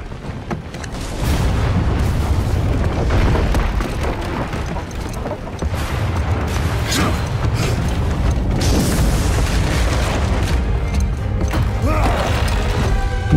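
A bomb goes off in the video game God of War with a loud, sustained booming roar and crashing debris. The rumble holds for over ten seconds, and faint voices can be heard under it.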